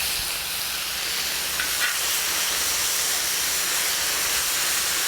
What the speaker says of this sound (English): it's going to brown this meat really quick